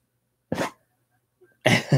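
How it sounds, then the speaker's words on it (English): A dog coughs after eating something: one short, harsh burst near the start, then after a pause a closer double cough, with no talking. "she's coughing like she ate something"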